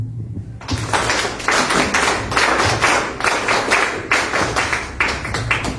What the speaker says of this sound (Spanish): Para él pedimos un fuerte aplauso